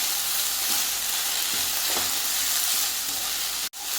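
Thinly sliced onion sautés in a pan for garlic chicken, a steady close sizzle with faint stirring ticks throughout, broken by a brief dropout near the end.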